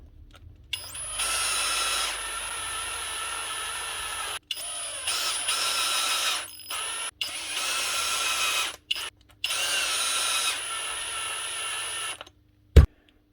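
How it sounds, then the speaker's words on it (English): A cordless drill runs in several sustained bursts while screws are driven into a replacement motor on a Dewalt DCD740 angle drill, steady high whine with short pauses between runs, ending in a sharp click. "Then all you have to do is tighten up the screws."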